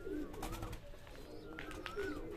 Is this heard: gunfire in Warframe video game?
no